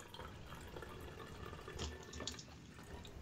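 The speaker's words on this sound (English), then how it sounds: "I wonder what happens if I put this brandy in my beer." Brandy poured into a glass of beer, a soft continuous trickle and fizz with a few small splashes, faint and steady throughout with no talk.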